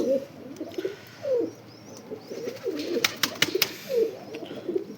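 Pigeons coo in repeated soft, throaty bursts close by, with a few sharp clicks and flutters in between.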